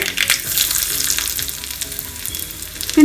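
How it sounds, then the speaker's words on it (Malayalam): Mustard seeds and sliced shallots frying in hot oil for a Kerala-style fish curry give a loud, close, continuous sizzle with crackling pops, swelling briefly near the end. "ഇതാ കടുകൊക്കെ പൊട്ടാൻ തുടങ്ങിയിട്ടുണ്ട്"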